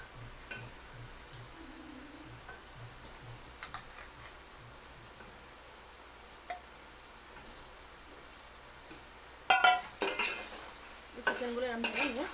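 Chicken pieces stirred into spiced masala frying in a pot, a quiet low sizzle with scattered soft scrapes, then louder clattering stirring near the end, no voices.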